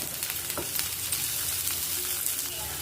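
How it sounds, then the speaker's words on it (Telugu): Chopped onions and green chillies fry in a hot pan, a steady close sizzle with faint crackles and a brief stirring scrape, no talk. "ఒక 3 ఉల్లిపాయలు కట్ చేసి వేసుకుంటున్నాను"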